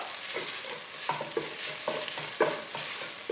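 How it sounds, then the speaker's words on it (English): Green chilies and curry leaves fry in hot oil in a pan while a utensil stirs them, giving a steady sizzle punctuated by regular scraping strokes, close and moderately loud with no voices. "We'll add the curry leaves also at this time. Give it a quick stir."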